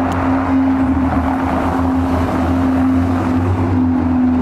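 A Ferrari 488 Spider supercar at a 2019 Haspengouw supercar tour, its engine a loud, steady drone with strong low harmonics and wind rushing across the mic throughout.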